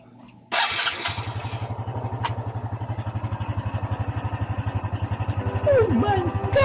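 A Honda XRM 125 motorcycle engine is started after a fuel filter change: a sharp start, a brief sputter, then a steady, rapidly pulsing single-cylinder idle close by, with a voice briefly exclaiming near the end.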